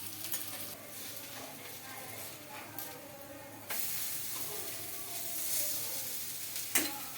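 Cabbage appam fries in a little oil in a pan, giving a quiet, steady sizzle with scraping stir and turning sounds and a couple of sharper clinks near the end.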